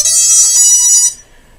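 A single high-pitched electronic beep from a TAL-Q device powering up sounds loud and close, holding about a second before cutting off into quiet.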